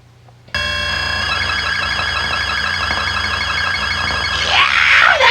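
A steady electronic drone from a Sinclair ZX Spectrum game, with warbling, chattering high enemy tones layered over a low pulsing hum, swelling into a brighter burst near the end.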